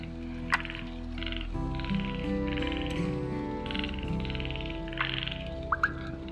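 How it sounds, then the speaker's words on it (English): Chinese flying frogs call at night in woodland near water, a chorus of repeated harsh croaks overlapping one another, some loud and close, with occasional sharp clicks. "the Chinese flying frogs are out and about."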